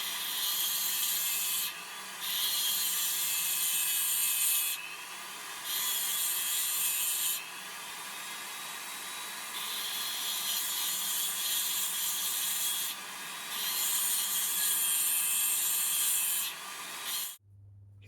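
Homemade lock pick tip for an Abloy Sentry lock being ground into shape, a loud, close abrasive rasping in several long passes separated by short pauses, ending abruptly.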